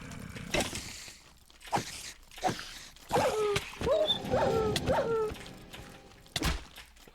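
A dog in the Vault Hunters Minecraft modpack video game barks and whimpers, several short yips and whines in sequence with other game noises around, close and moderately loud.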